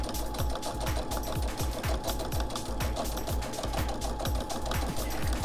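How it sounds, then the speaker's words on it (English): A sewing machine stitches fabric for a pot holder with a quick, steady run of rhythmic mechanical clacks and a soft whirring underneath, close and continuous without talking. "I'm actually just going to sew over my original stitching."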